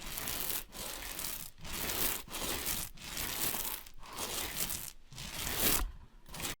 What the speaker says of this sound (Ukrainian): Ви берете в руки валики з фарбою, проводите ним по стіні.